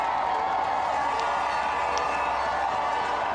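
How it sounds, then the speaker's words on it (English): A steady, distant roar from a crowd cheering for Paula along the course of the 2015 London Marathon, a continuous wash of noise with a few faint whoops rising above it. "Now we hear the crowds for Paula."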